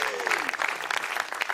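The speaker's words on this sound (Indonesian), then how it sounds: "Tepuk tangan buat semuanya." Audience applause at an Indonesian televised talent competition, a full steady burst of clapping with a brief voice at the start, fairly loud and continuous.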